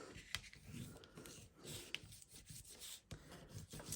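Folded paper for a scrapbook album pocket being burnished with a tool, a faint, close rubbing and swishing of repeated short strokes across the paper with small taps in between.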